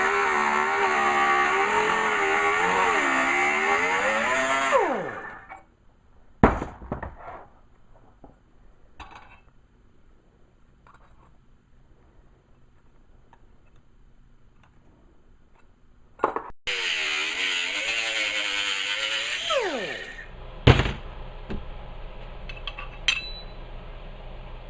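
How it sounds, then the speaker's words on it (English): Angle grinder cutting through metal sides: a loud, shrill whine with wavering pitch in two long bursts separated by a quiet pause, each ending with the motor spinning down and clanks of metal. "you just take your grinder and you cut the sides out"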